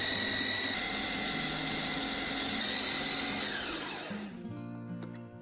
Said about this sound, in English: Blend all the ingredients until smooth and thick.